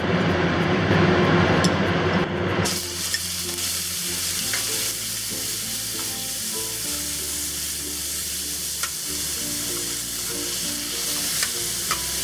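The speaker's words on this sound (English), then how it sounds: "So next we're going to cook the beef. I have the pan set at a medium high. We'll add oil." Beef hits hot oil in a pan set to medium high for a stir fry with bitter melon and black bean sauce, starting with a loud burst of sizzling that settles into a steady, close frying hiss.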